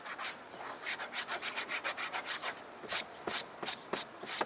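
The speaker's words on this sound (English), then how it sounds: "Go over that with the eraser." Scuffed, marred black plastic bumper trim on a car rubbed with an eraser: a steady run of rhythmic back-and-forth scrubbing strokes, close and fairly quiet, growing a little harsher and more spaced toward the end.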